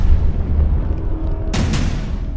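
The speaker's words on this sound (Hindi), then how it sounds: "इजराइल ने पहला धमाका किया," Israeli airstrike explosions on Hamas targets in Gaza, filmed from a surveillance drone: a dense rumbling roar fills the whole clip, and a pair of sharp, loud bursts cracks through it near the end.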